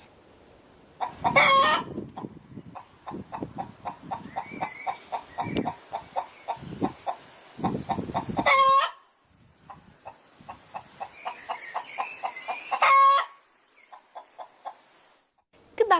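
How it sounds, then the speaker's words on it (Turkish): Chickens clucking in a rapid series of close, sharp clucks, broken up by three loud rooster crows, with quieter birds chattering in the background. "Bakalım tavuklar nasıl gıdaklıyorlar."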